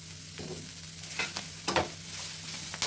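Broccoli and other vegetables fry in butter over low heat, with a constant gentle sizzle broken by a few brisk scraping strokes of a spatula stirring them, close up and with no talk.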